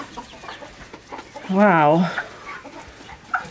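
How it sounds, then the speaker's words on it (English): A chicken clucks loudly and nearby in a farm coop, a single rising, wavering call for about half a second, surrounded by quieter rustling and people talking. "Oh, the chicken's using the roost already."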